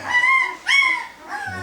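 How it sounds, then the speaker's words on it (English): Close, loud high-pitched whimpers from five-day-old Berger Blanc puppies: two drawn-out rising-and-falling cries followed by a fainter third whine, alone without talk. "So we're with Abba's puppies. Abba's just left one, which is why we've got the noise."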